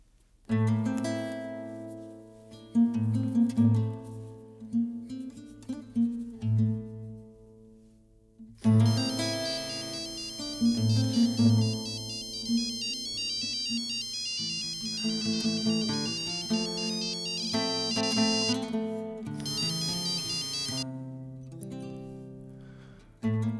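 A phone's ringtone plays on an outgoing call, a repeating melodic tune that pauses and restarts several times, moderately loud and alone with no one speaking.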